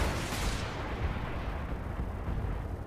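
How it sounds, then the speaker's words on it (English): Missile barrage hammers a Panther mech in the BattleTech video game, a dense rumbling salvo of blasts that opens with a sharp burst and then rolls on as continuous low booming impacts. "we're going to lay into it with all the missiles"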